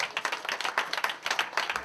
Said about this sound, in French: Applaudissez déjà pour le personnel du Biblos, s'il vous plaît, mesdames et messieurs